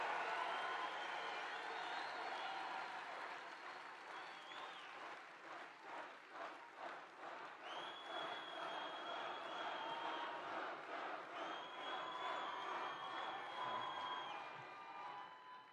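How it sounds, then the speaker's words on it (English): Energetic crowd at an indoor political rally in Saginaw, Michigan, cheering and applauding in a sustained wash of clapping and shouts, with chant-like swells rising partway through and holding to the end. "It's a very energetic crowd."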